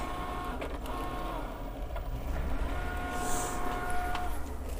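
Cricut cutting machine working through heat transfer vinyl for a long-sleeve shirt design, a faint, steady mechanical hum with soft whirring tones and occasional light clicks in a quiet room.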